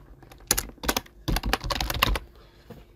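A computer keyboard typed on in a quick burst of several sharp, close key clicks. The clicks are irregular and last about two seconds, with no talking.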